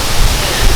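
Rupi Raila waterfall in the Sainj Valley of the Himalayas, a loud steady rush of falling water filling the whole moment, broad and constant with no breaks.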